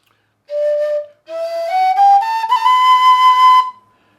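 A bright tin whistle plays a short note, pauses, then climbs through a run of high, sustained notes in its upper register, clear and close.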